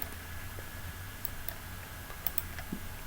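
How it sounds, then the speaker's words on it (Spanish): Scattered quiet clicks of a computer mouse, a few sharp isolated taps spread over a few seconds against low background hum. "hacemos clic"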